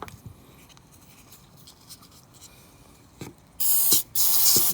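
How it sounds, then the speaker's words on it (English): Cleaner sprays into the carburettor of a Honda HRU 216 self-propelled lawn mower in two loud hissing bursts near the end, after faint handling clicks. "Give it a spray."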